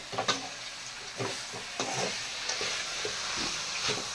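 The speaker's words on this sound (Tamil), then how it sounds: "இப்போ கடைசியாக எல்லாத்தையும் ஒன்றா மிக்ஸ் பண்ணிடுது" Roasted chutney ingredients, among them tamarind, asafoetida, garlic, ginger and curry leaves, sizzle softly in a pan while a spoon stirs them, with scattered scraping knocks over a steady hiss.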